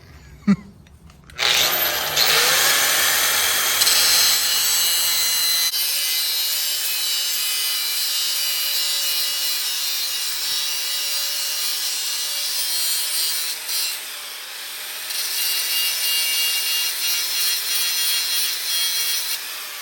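A metal engine mount boss is cut with a power saw during an LS swap on a C10 pickup, a loud steady grinding rasp that starts after a brief knock and runs continuously with slight dips.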